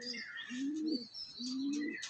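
Pigeons of an Andhra breed coo in two low, rolling phrases, fairly close, with faint chirps above them and no voices.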